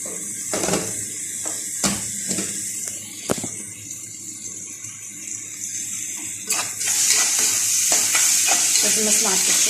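Pepper and cumin frying in a hot pan give off a steady crackling sizzle with occasional stirring clatters, and the sizzle surges louder near the end as water hits the pan.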